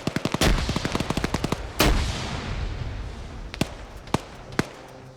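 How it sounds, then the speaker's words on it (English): Rapid automatic gunfire bursts followed by a heavy explosion in a team shooter video game, then scattered single shots trailing off. "Grenades being exchanged."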